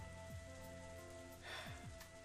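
Steady rain hiss in a Shuffle! visual novel scene, a soft continuous wash under a looping music bed, with a brief swell of heavier patter midway.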